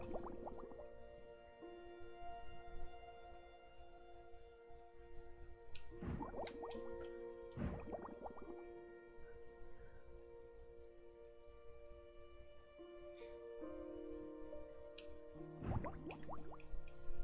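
Bubble sound effects from the video game Lost Words: Beyond the Page, with a few bursts of bubbling pops over a soft sustained musical tone, moderately loud and spaced several seconds apart, with no speech.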